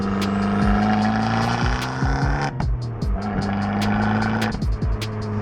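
A standard factory car fitted with an Akrapovic exhaust and carbon fibre tips is revved hard several times, each rev rising and falling in pitch, with sharp crackles and pops on the overrun, loud and close.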